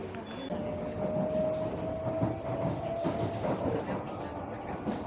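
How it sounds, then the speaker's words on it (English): Singapore MRT train pulling into Jurong East station, a steady close rumble of wheels and carriages with a faint tone running through it, plus a little background murmur. "Hopefully the train will wait for us."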